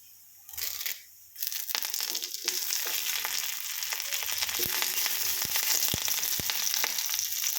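Curry leaves hit hot oil with fried onion and chili, setting off a loud, dense sizzle that swells after a short quiet start and keeps crackling steadily with occasional pops.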